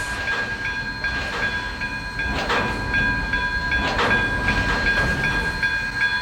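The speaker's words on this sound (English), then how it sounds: "Roy backed onto the train." Steady rail noise with a low rumble and periodic clanks as a Pennsylvania Railroad locomotive backs slowly onto the Broadway Limited passenger train cars at a station, no talking.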